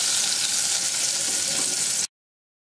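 Peppers and potatoes fry in oil in a pan, giving a steady, close, bright sizzle that runs without talk and then cuts off abruptly.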